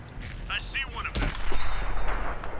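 Tank cannon fire from the World of Tanks console game, with a Tiger I in play: a sharp broadband blast about midway through, then a rumbling tail of further gunfire and battle noise at moderate loudness, with no talk over it.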